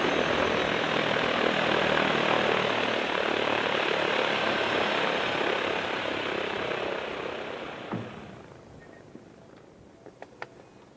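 A rescue helicopter returns from an accident site about 60 km away and lands, its loud, steady rotor and engine roar filling the air before dropping off sharply near the end, leaving a few faint clicks.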